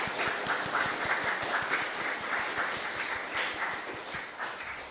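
A church congregation at Sunday worship applauds to bless a couple soon to marry, a sustained even wash of many hands at moderate distance.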